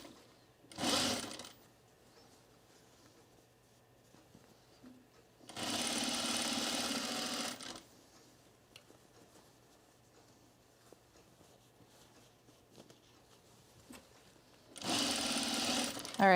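A sewing machine stitches a seam on a color-block top just under the seam allowance, running in three separate loud bursts of about one to two seconds each with quiet pauses between.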